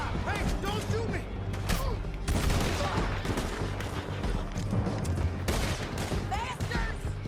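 Heavy gunfire from riders in Red Dead Redemption II, dense and continuous volleys of shots under shouting voices and game chaos.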